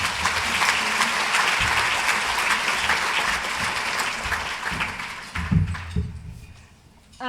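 A room full of people at a conservation awards breakfast applauds to welcome a speaker, loud sustained clapping that thins out and fades toward the end, with a few footsteps or knocks near the close.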